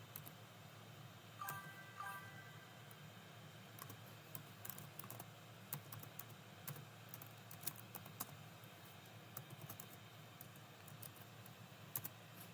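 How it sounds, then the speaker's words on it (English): Someone types on a computer keyboard while setting up a streaming account, producing faint, irregular key clicks scattered throughout against a low background hiss. "I'll type it in again."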